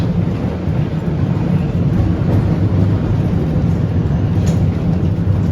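Vintage Bendigo J class tram running along its tracks, a loud, steady low rumble and rattle of wheels with continuous mechanical noise throughout.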